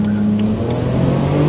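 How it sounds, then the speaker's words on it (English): A Honda S2000 pulls uphill in second gear, its engine giving a steady, loud droning hum that rises slightly in pitch as it accelerates from inside the car. "you can just feel going up this hill in second gear just how much more torque it has"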